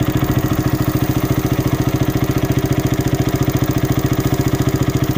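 A motorcycle engine idles steadily up close, its exhaust putting out a fast, even chugging pulse with a rattly mechanical undertone.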